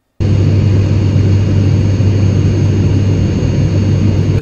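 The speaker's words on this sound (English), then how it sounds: "A modern airplane sound." Modern airplane heard from inside the cabin, a loud steady jet-engine roar and broad rushing hum that starts abruptly and holds constant throughout.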